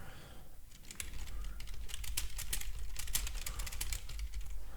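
Quick bursts of keystrokes on a computer keyboard as a chat alert is typed, close and steady clicking running for several seconds over a low background hum.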